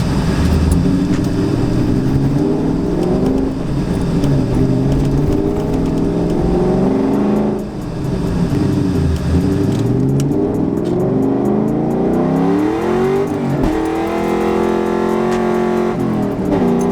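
A street car with a 700 hp built transmission drives and accelerates hard, its loud engine note rising and falling through several gear pulls, close and continuous, with no talking.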